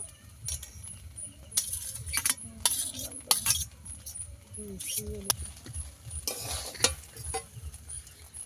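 A spatula stirs fried vegetables and egg through broken rice in a pan, making close scraping strokes and light metallic clinks over a soft sizzle, with a voice faintly present at times.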